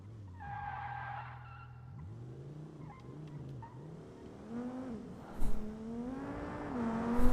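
A video-game car brakes and skids down a ramp, its engine droning and shifting pitch while tires squeal and scrub in long smears, with a few louder thumps near the end.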